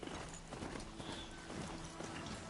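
Hooves of a horse-like machine mount clatter at a gallop in the video game Horizon Zero Dawn, a steady rapid clip-clop running close and fairly loud through the whole stretch over a dense game soundscape.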